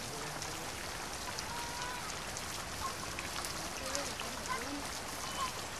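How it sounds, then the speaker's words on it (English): Monsoon rain falling on a palm leaf thatch shelter on the Coromandel Coast, a dense steady patter of drops with a faint voice underneath. "During the monsoon season, the palm leaf thatch withstands the downpour."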